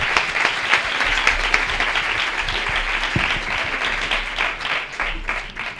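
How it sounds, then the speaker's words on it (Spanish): Sustained applause from a crowd, a steady dense patter of many hands clapping for several seconds, fairly loud and close. "Un aplauso."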